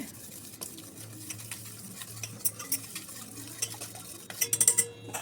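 Steady scraping and clinking of a utensil stirring batter in a vessel, close by, with a few sharper metallic taps near the end; no talking.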